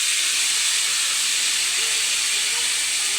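Pieces of fish deep-fry in hot oil, producing a loud, continuous, even hiss with no breaks or other sounds.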